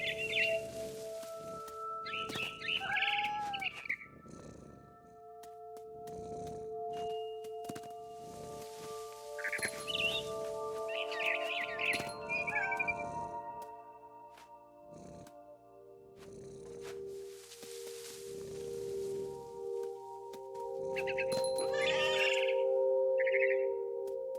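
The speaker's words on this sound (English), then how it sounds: "It was a barn swallow going back to her nest." A barn swallow in the video game What Remains of Edith Finch gives scattered high chirps in short bursts, set over a steady bed of sustained tonal game music and ambience.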